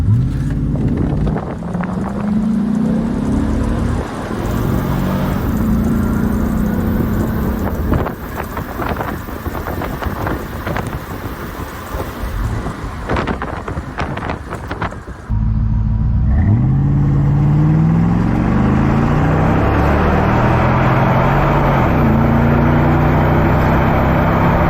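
A modified Cadillac Escalade with a 6.0 engine, recently flooded in a hurricane, drives with a low rumbling engine and rising revs under heavy wind buffeting on the microphone, steady and close for the whole stretch.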